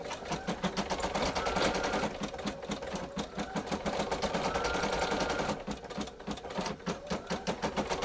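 An embroidery machine stitches a Christmas treat bag nearby with a fast, steady, rhythmic needle clatter that runs throughout and eases slightly near the end.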